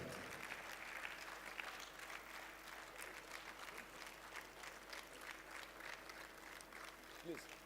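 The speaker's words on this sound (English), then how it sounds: "Please, a resounding round of applause as he makes his way to the podium." A large audience at a valedictory ceremony for an immigration comptroller general applauds steadily and sustainedly while he walks to the podium, heard from a distance with faint voices mixed in.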